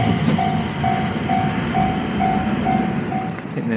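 Train rumbling through a station in Japan at close range, a steady rolling roar with a regular repeating tonal beep or clack pattern over it and no voices.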